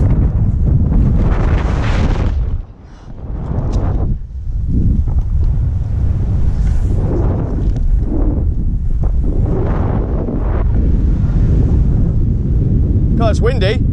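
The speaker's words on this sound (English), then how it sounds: "God, it's windy." Strong wind buffeting a clifftop at night before a glow-stick BASE jump, loud gusting roar battering the microphone in surges with a couple of brief lulls, while people talk over it.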